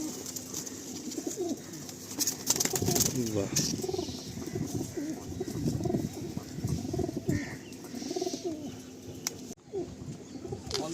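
Sulemani Kakji pigeons coo softly in a loft with their chicks, a low continuous murmur of cooing running under frequent nearby conversation.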